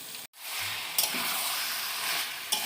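Garam masala stirred into vegetables frying in a pan, a steady close sizzle with faint scraping stirs and a brief break near the start.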